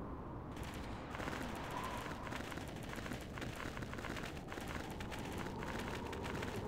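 Combat in Star Wars: Knights of the Old Republic: a steady, dense clatter of blaster fire and crackling impacts, continuous and fairly quiet throughout, with no voices.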